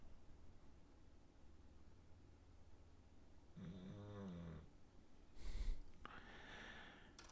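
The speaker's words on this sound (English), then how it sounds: "He only comes in here and lays down and snores like that when I want to do a video." A pet dog lying down indoors snores faintly, with a clearer drawn-out snore in the middle and then a short snort, over a low steady room hiss.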